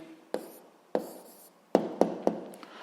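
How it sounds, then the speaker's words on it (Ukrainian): A pen writes an answer on paper in five short, separate strokes, each a crisp tap followed by a brief scratch, close and quiet in a silent room. "Записуємо відповідь."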